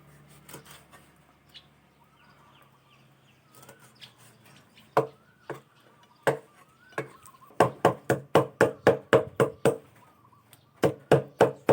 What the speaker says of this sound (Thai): เดี๋ยวเราจะมาสับปลาดุกกันเลยครับผม